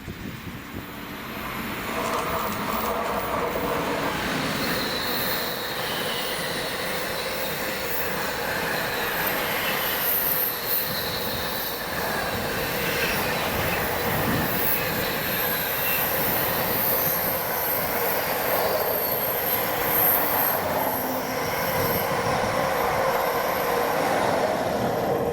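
A freight train hauled by Class 88 locomotive 88.002 rolls past at Braidwood on a wet day, a loud, steady roar of wheels and wagons with metallic squeal that holds throughout, close to the track.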